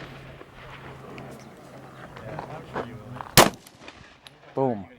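A single sharp Glock pistol shot with a broken or missing trigger spring, loud and close, bursting out of quiet outdoor background with a short echo afterward.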